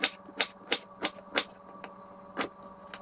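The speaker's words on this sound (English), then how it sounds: "cut that in half, and I cut it into chunks" A knife chopping a fresh pineapple into chunks on a cutting board, eight sharp quiet chops in an uneven rhythm, close and alone.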